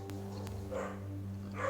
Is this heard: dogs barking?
yes